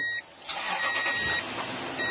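A car engine starts up loudly: after a brief pause comes a burst of cranking that catches into a steady running rumble and holds for over a second.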